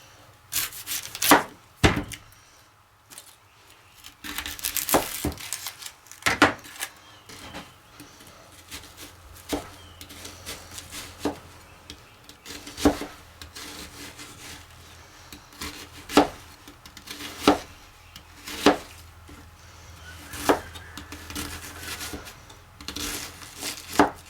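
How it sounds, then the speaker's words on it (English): Half an onion is chopped with a knife on a wooden board, giving irregular sharp taps and thuds close by, spread over a long stretch with soft rubbing between strikes. "We're going to start with chopping half an onion."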